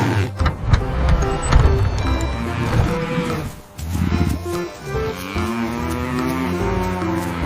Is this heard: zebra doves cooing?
no